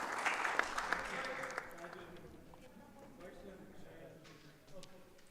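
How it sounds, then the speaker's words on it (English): Faint, distant clapping from an audience around a neighbouring board at a carrom doubles tournament. It is a soft patter that fades out after a couple of seconds, leaving low room noise. "The claps you heard a little bit was on the other board"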